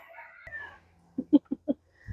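A rooster that sometimes acts as a broody hen gives a burst of four short, loud clucks close by, with a softer cluck just after and a faint bird call before.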